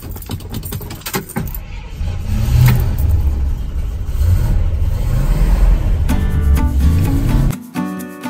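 Keys jangle, then a car engine starts and the vehicle pulls away, a steady loud engine rumble with shifting pitch as it accelerates close by, ending abruptly.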